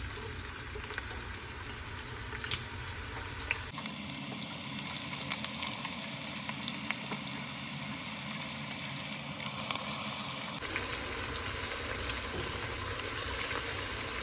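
Chopped onions fry in hot mustard oil for beef tehari, a steady, broad hiss and crackle of sizzling oil that holds evenly throughout, with no voices.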